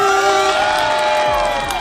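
A short applause-and-cheering sound effect plays in a mobile game stream, a loud crowd cheer with whoops and shouting over a wash of clapping, continuous from start to finish.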